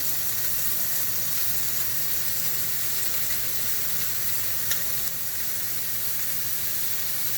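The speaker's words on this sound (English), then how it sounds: "I'm just going to caramelize these sausages here." Sausages caramelizing in a hot pan give off a continuous, even sizzle and hiss, close and steady for several seconds with one faint clink midway, no voices.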